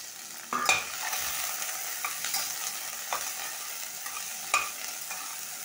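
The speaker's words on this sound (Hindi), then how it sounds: "अब डाल देते हैं इसमें अपने प्याज।" Onions and spices frying in a pan while being stirred, a steady soft sizzle with a few louder scraping stirs of the spoon against the pan, close and without talk.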